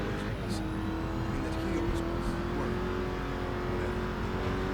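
Car engine hum in the Driver San Francisco video game, a steady droning motor with a rising revving tone held throughout, heard under someone talking.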